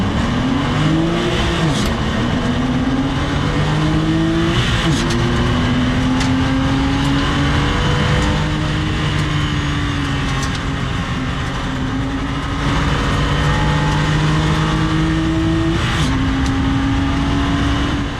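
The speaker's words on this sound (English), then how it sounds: "We're about to get round 10 of the 2025 Porsche Club Motorsport Championship with Pirelli and the Porsche Boxster Cup underway here at Silverstone" Porsche Boxster Cup race cars start round 10 of the 2025 Porsche Club Motorsport Championship at Silverstone. Several engines drone loudly and continuously, with pitch sweeping up and down as the cars accelerate and shift.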